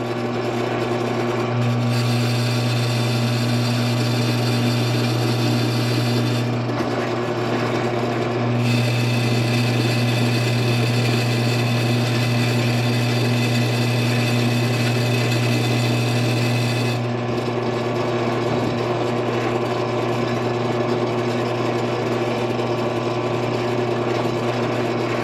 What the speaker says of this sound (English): we've got it back down at 630 RPM, and we're gonna give it a run on our square tube